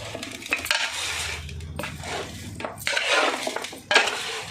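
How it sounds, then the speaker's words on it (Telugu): Yogurt poured in and chicken biryani mixture mixed in a large pot for a 40-plate order, with continuous close scraping, clinking and clattering of a metal utensil against the pot, loudest toward the end. "ఇప్పుడైతే పెరుగు అన్నీ పోసి కలుపుదాం"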